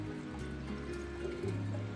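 Excess water drains from salted zucchini in a home kitchen, a faint, steady trickle and light dripping heard alone for a couple of seconds.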